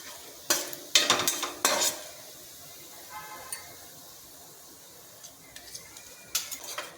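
Garlic paste sautéing over a low flame while being stirred: a few sharp scraping and clinking strokes of a spoon against the pan over a faint, quiet sizzle.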